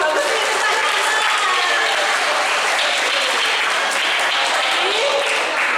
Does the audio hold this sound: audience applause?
yes